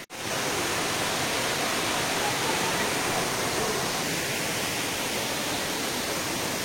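Machakandana waterfall in the Mayurbhanj forest roars as a loud, continuous broadband rush of falling water, steady and close throughout, with no talking over it.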